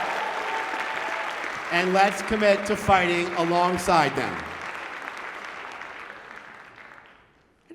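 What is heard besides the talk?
audience applause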